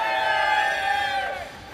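A steam locomotive whistle in the game Railroads Online sounds as one sustained, loud tonal blast that holds steady and then bends slightly downward before fading out.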